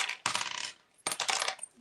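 Dice tumbling down through a dice tower in two quick clattering bursts, each a bright rattle of plastic knocks that spills out and settles, close by with no voices.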